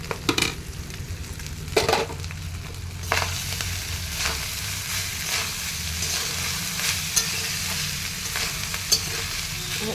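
Rice being stirred and fried in a pan for fried rice, steady sizzling under repeated scraping and stirring strokes, close and fairly loud, with no voices.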